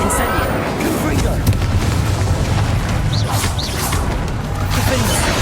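Bombarda, Incendio and Confringo spell explosions in Hogwarts Legacy, a continuous barrage of loud booms, whooshes and crashing bursts packed close together in a busy fight.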